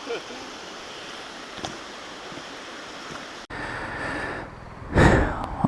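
Creek water runs over a dirt-road crossing on an adventure motorcycle route, a steady rushing wash mixed with wind, ending in a brief loud splash or gust.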